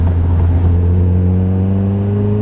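A Caterham 620S sports car's engine pulls hard and close, its pitch climbing steadily under acceleration in a loud, unbroken rising drone.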